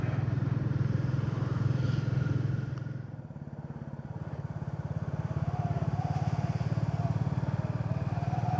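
A motorcycle riding along a road at speed, its engine a steady loud drone with a slight dip in pitch partway through, constant wind rush and no voices.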